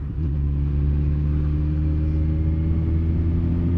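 A Kawasaki ZX-14 sport motorcycle's engine drones in a steady, loud, low hum while being ridden, heard close with wind rush and no talking.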